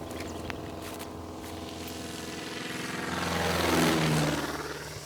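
A fixed-wing airplane, likely a propeller craft on a wildlife tracking flight over Maasai land, passes overhead, its droning engine swelling to a peak near the end before easing slightly, with no talk.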